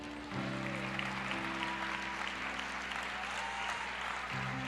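Faint applause from a church congregation rises under sustained keyboard or organ chords, a soft, even wash of clapping kept in the background.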